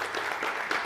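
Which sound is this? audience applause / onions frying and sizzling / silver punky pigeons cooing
audience applause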